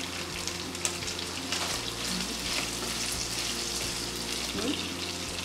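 Green chilies, curry leaves, sliced garlic and ginger sautéing in hot oil in a pan for Kerala chilly chicken, giving a steady, close sizzle throughout with occasional stirring scrapes and faint background clatter.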